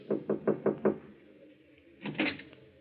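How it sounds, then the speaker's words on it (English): Five sharp knocks on an office door marked manager in a cafe, given in a quick even run, followed by a short pause and then a muffled thump or two. "He hesitates a moment, glances at the two men beside him, and knocks."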